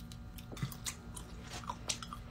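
Frozen honey jelly gets chewed close up, with a few quiet, crisp crunches and bites spread over a couple of seconds.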